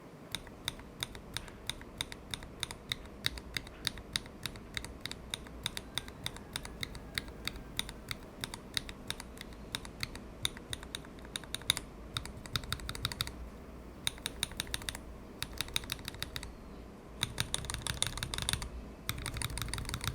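Rapid, steady typing on a mechanical keyboard with black-on-white PBT keycaps, crisp close clacks in a continuous stream that grows denser and louder near the end, with no voices.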